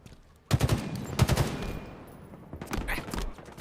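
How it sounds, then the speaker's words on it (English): Halo match gunfire with spike grenades thrown: rapid bursts of automatic fire and clattering impacts in quick succession, dense and close, fading into lighter scattered shots. "Some spike grenades going out."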